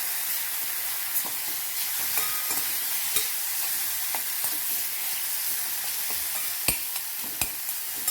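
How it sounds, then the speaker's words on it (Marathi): Ground spice paste sautés in a pan with a constant bright sizzle, broken by scattered spatula scrapes and sharp clinks against the metal, close and steady for the whole stretch with no voices. "हा वाटलेला मसाला थोडासा व्यवस्थित परतून घेऊ"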